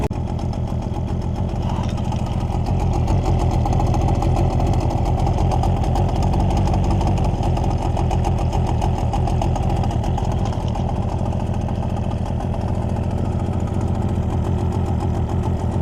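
A Suzuki 9.9 outboard motor idles during its first start and break-in, a steady, even mid-pitched engine drone with a fast regular firing pulse, close and loud and unchanging throughout, with no voices.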